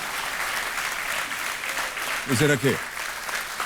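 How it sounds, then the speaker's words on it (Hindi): Studio audience on the KBC game show applauds steadily, a dense wash of clapping, while someone briefly speaks over it near the end. "तालियों के साथ इनका अभिनंदन।"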